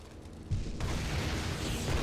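A bazooka round explodes in the World War II game Brothers In Arms: Hell's Highway, a heavy boom arriving suddenly and swelling into a broad, rumbling, sustained roar that fills the rest of the moment.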